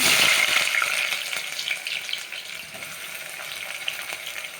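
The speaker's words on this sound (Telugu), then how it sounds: "ఆయిల్ వేడైంది ఇప్పుడు ఉల్లిగడ్డ తీసుకుందాం" Onions sizzling and frying in hot oil for a boti curry, a steady bright hiss that is loudest at the start and settles into a continuous crackle with small pops, heard alone and up close.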